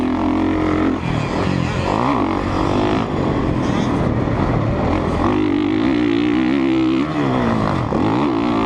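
A 2017 Honda CRF 450 dirt bike laps the track at Aztec Raceway, its four-stroke engine revving up and dropping off in rapid, loud swells as the rider works through the throttle, with occasional talk.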